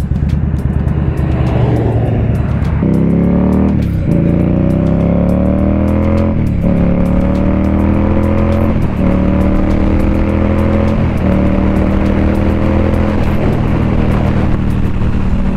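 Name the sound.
old hot rod car driving past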